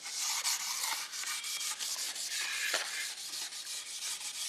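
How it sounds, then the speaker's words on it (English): Fine grade steel wool rubbing rust off a part of a GMC Astro cabover truck with a Detroit Diesel 8V-71, rapid close scrubbing strokes in a steady rhythm, no voices. "if some of that rust doesn't come off, I've got fine grade steel wool"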